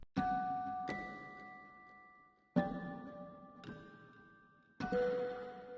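Soft, clean dulcitone keyboard notes struck one at a time, bell-like and sustained, each ringing and fading before the next, at a gentle volume.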